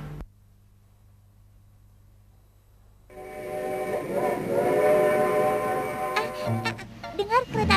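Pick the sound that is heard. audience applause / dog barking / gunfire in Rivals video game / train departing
train departing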